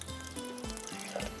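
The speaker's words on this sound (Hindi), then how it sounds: "बस पानी इसका फेंका और उसके बाद थोड़ा सा ठंडा पानी डाल दीजिएगा।" Cold water poured into a pan of boiled eggs after the hot water is drained, a short steady run of splashing and trickling liquid lasting just over a second, close by with no talk.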